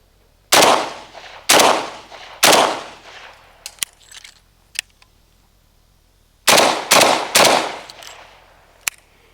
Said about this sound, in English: So let's fire a few rounds into the tires.